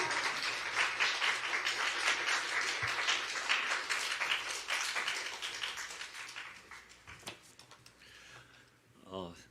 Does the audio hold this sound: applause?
yes